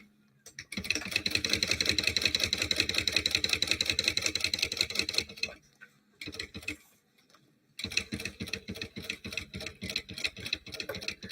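Sewing machine basting a flat bag piece, a rapid close mechanical chatter in two long runs separated by a brief pause with a few short stitches.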